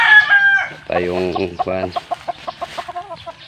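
Chickens at a rural farmyard cluck close by while a rooster crows, the calls coming in short bursts followed by rapid clucking, with brief speech mixed in.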